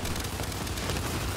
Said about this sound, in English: Frag just hit me in the forehead.